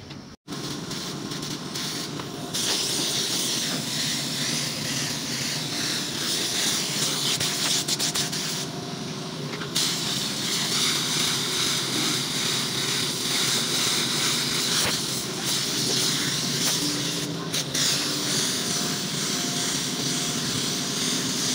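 Spray gun laying a first coat of paint on a car bumper, a loud continuous hissing rush of air and atomized paint, briefly cutting out near the start and again for short pauses, close to the microphone.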